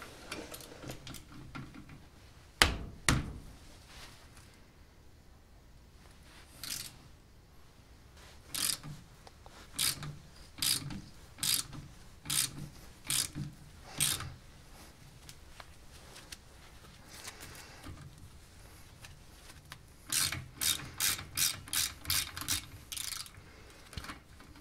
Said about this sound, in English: Next up, I got to take this Allen head screw out. It's a 1/4 inch.